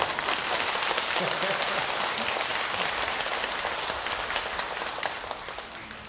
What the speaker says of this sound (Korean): 박수를 치려면 또닥또닥 치지 말고 확실하게 밀어버려.